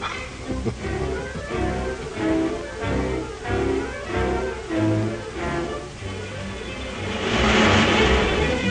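A 1930s car accelerates to pass another car on the road. Its engine swells and rises under a continuous musical score that grows louder toward the end.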